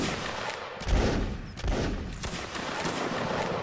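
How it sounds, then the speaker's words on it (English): Musket volleys ring out in a Napoleonic Wars battle in Mount and Blade, with broadband crackling bursts near one and 1.7 seconds over steady battlefield din and scattered distant shots. "Volleys."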